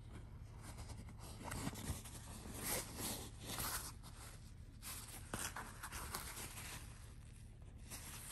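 Zippers on a Nordweg NW072B leather backpack are opened one after another, giving soft, close scraping and rasping runs with faint handling noise and no talk.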